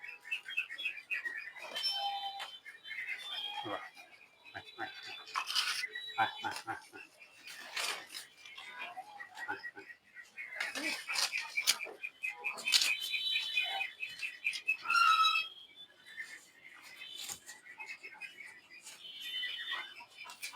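Old pet pigeons kept for ten years coo and flutter in a home loft, with intermittent chirps and wing movement mixed under someone talking close by.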